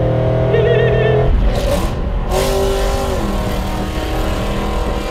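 V8 LS engine in a police car idling roughly, then a quick sharp rev blip up and back down to a loud close idle, with no talking.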